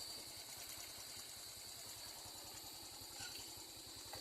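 Motorcycle engine idling at night outside, a faint, steady low chugging pulse that runs evenly and alone throughout.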